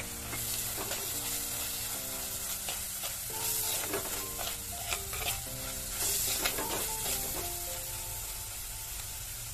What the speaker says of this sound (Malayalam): ഇനി ഇതിലേക്ക് ഇഞ്ചിയും വെളുത്തുള്ളി ചതച്ചതും പച്ചമുളകും ചേർത്തിട്ട് ഇത് നല്ലോണം വാട്ടിയെടുക്കണം.